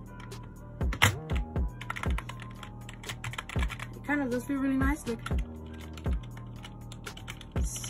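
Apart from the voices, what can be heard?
typing on the NPK10 keyboard's keys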